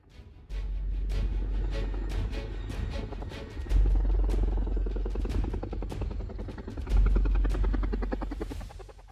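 A CH-47F Block 2 Chinook tandem-rotor military transport helicopter drones loudly nearby, its deep rhythmic rotor thumping and turbine whine swelling in three waves as it passes close, with no voices.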